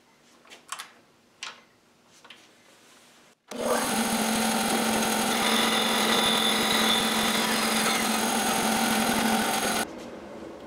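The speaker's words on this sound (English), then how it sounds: "Now to cut the thicker boards, again, just one revolution for the curve of the blade." Small saw blade cutting through thicker wood boards for miniature segmented discs: a few light clicks and taps, then a loud, steady high-pitched whine and grind of the cut lasting about six seconds before abruptly dropping away, heard alone.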